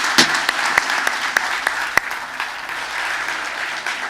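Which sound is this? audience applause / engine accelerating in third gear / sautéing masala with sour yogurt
audience applause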